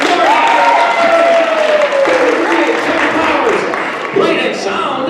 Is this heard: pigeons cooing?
no